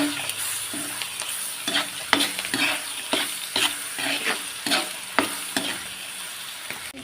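Vegetables for Filipino pakbet frying in a pan as bagoong alamang shrimp paste is added and stirred in, steady sizzle broken by repeated scraping and clinking stirring strokes, close up.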